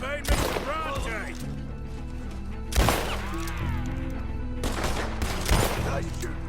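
Gunfight in Red Dead Redemption 2: three sharp bursts of gunfire at about 0.3, 2.8 and 5.5 seconds, each loud and close with ringing tails, over steady game music and ambience while voices talk between shots.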